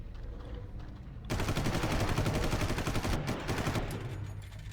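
Rapid automatic gunfire in the video game Far Cry 5, a quiet lead-in giving way to a sudden loud burst of dense, rattling shots that runs for about two seconds before easing off.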